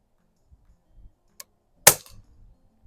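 Air rifle shot from a Crosman Vapor Max fitted with an Aquilifer 3-9x40EG scope, hitting a splatter burst target: one sharp, loud crack with a brief rattling tail, a faint click before it and quiet low rustling around.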